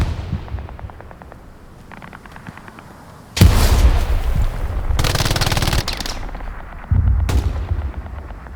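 Loud, close machine gun fire from the video game Hell Let Loose comes in heavy sustained bursts with short pauses between them. Quieter distant gunfire rattles in the background.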